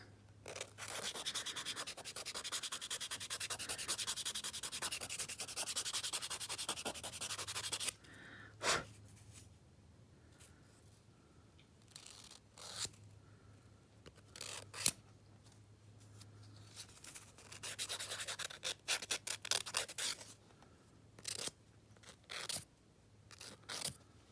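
A file rubs along the edge of an acrylic nail to round it off, giving a continuous close, scratchy rasp at first, then short separate strokes broken up by pauses.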